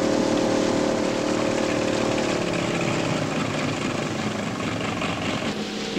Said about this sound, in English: It's an army helicopter